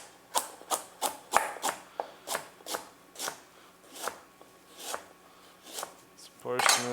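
Cut parsnip pieces dropping one by one into a pan for a roasted butternut squash soup, about a dozen sharp clattering hits at an uneven pace, close and clear, ending with a louder scraping rattle.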